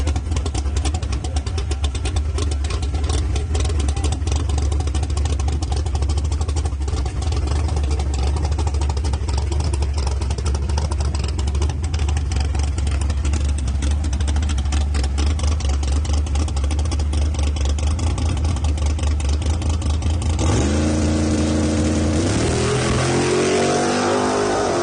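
A V8 drag car engine with nitrous idles with a loud, choppy lope, then revs up sharply near the end, rising and falling in pitch with close, rough roaring.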